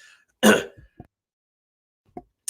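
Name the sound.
throat clearing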